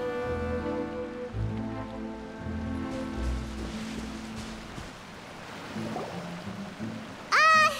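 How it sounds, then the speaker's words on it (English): Rain falls in Genshin Impact, a steady hiss of drops spread beneath layered game music, ending with a brief bright chiming effect. "Oh, it's raining."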